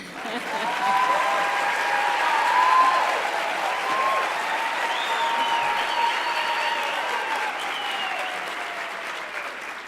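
Audience applause at a university chancellor's installation ceremony in a large hall, steady continuous clapping from many hands, swelling slightly early on and holding at an even level.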